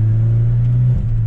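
A remapped Opel Astra 2.0 with 127 hp holds a steady, loud engine drone in third gear under light throttle, close to the microphone, with a brief dip and change in tone near the end.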